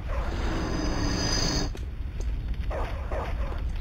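Dogs barking in a kennel in the video game Bloodborne PSX, a sharp bark and whimpers over a mechanical hum and a steady tone that cuts out partway, then a few more yips.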